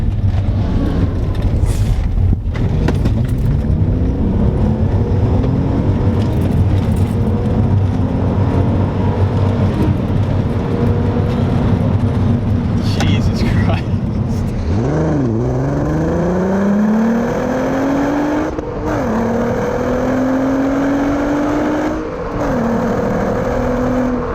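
A VW Golf Mk4 R32 pulls hard along a country road, its engine note climbing steadily before a brief dip and a fresh rise as it shifts into second gear, loud and close throughout.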